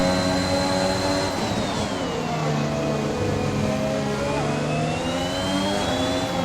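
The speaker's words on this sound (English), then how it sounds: "Getting behind Leclerc to get the slipstream distance." A Formula 1 race car engine in the F1 2021 video game drones steadily at high pitch, its tone slowly dipping and rising as it runs behind another car, loud and continuous with no speech.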